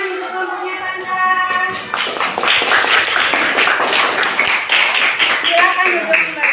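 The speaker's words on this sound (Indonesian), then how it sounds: "tepuk tangan untuk kelompoknya Tanda" Classroom clapping for a student group, a dense burst of hand claps starting about two seconds in and continuing steadily, with a voice heard briefly before it begins.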